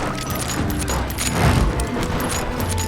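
Gunfire in the western video game Call of Juarez: Gunslinger, a dense rattling fusillade of rapid shots and impacts in steady succession, loud and continuous with no talking.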